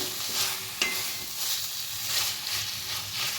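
Capsicum and poppy seeds are stirred in a hot pan with a little raw mustard oil, giving a steady soft sizzle and hiss with light scrapes of the spoon throughout and no voices.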